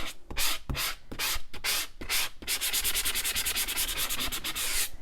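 Sandpaper rubbed across cardstock to expose its white core, starting with several separate scratchy strokes and then turning into fast, steady back-and-forth rasping, close up and alone.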